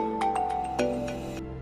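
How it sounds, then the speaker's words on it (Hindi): A phone ringing in a police-station call scene from a romantic drama: a run of repeated electronic tones in quick bursts, fairly loud and steady, with no talk over it. "पुलिस स्टेशन से फोन आ रहे हैं"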